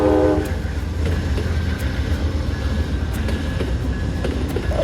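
Amtrak California Zephyr rolling through the Chicago yard on a cold, misty day, a steady loud rumble of rail cars with rhythmic clatter and a brief tonal horn-like note at the start, no voices.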